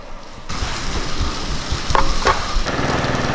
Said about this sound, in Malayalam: ഇനി നമുക്ക് ഇതിലേക്ക് ചിക്കൻ ഇട്ട് കൊടുത്ത് നല്ലപോലെ ഇളക്കി ഒന്ന് അടച്ചു വെക്കാം